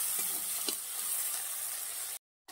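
Onion and tomato sizzle and fry in a pan, a bright continuous hiss with a few soft stirring scrapes, close and steady before a sudden brief cut to silence.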